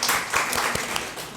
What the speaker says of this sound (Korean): 우리 다시 한번 더 박수로 환영하시겠습니다.